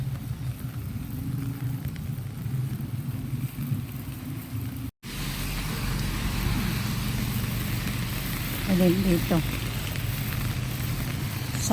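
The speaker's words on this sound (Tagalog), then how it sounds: "Sakay ng tricycle." A motorized tricycle's steady engine drone rumbles throughout with road noise, and a voice talks briefly near the end.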